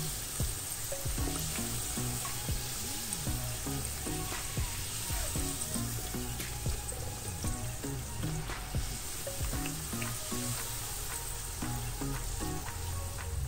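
Pastel dough frying in hot oil, a steady, dense sizzle with crackling pops that runs close and continuous throughout.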